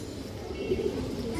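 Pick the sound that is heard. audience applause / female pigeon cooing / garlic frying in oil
female pigeon cooing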